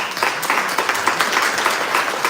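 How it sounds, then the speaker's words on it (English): A community meeting on a Polk Street closure fills with steady, moderately loud applause from the audience after a presentation, dense overlapping claps throughout. "we give them a round of applause"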